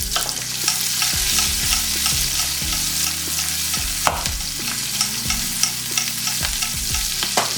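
Chopped onion fries in a pan over a medium gas flame for tomato chutney, giving a steady close sizzle with repeated spatula scrapes and knocks against the pan, and no speech.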